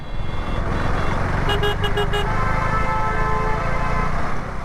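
Steady roar of morning road traffic with engines rumbling continuously, and a brief series of horn toots partway through.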